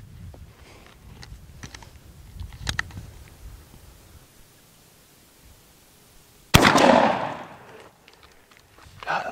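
A single loud shotgun blast from a Stevens 301 .410 turkey gun firing an Apex Turkey Ninja TSS load at a 40-yard pattern target, a sharp report with a short decaying tail after a quiet lead-in of faint clicks.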